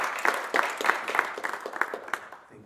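Applause greets the first speaker at a World Speech Day event at Sorbonne University in Paris, a sparse but close run of distinct claps that thins out toward the end.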